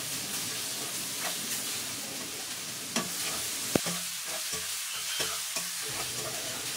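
Stir-frying string beans and bok choy in a pan gives a steady low sizzle with scattered utensil clicks and scrapes, one sharp knock standing out near the middle, no voices.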